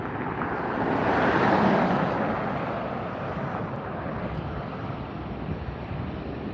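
A United Airlines 737-900ER arriving from Seattle at LAX at sunset. Its steady, broad jet roar swells briefly, then holds at a constant level with no talking.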